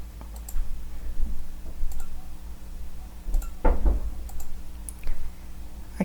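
Someone types on a computer keyboard, making a sparse run of light, close clicks and taps at an uneven pace in a quiet room.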